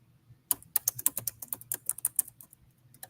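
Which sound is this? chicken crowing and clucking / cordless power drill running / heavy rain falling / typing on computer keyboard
typing on computer keyboard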